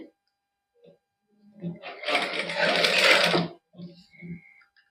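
A sewing machine stitches plain cloth with three-colour thread for a sleeve design, making a brief whirring burst of about a second and a half. Soft talk comes before and after it.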